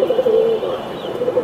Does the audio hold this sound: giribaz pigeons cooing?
yes